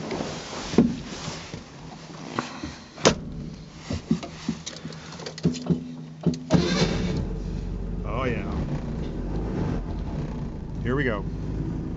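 A Honda Z600 rat rod's small engine cranks with sputtering bursts and catches, then settles into a rough idle and revs, heard fairly quietly with a person speaking over it.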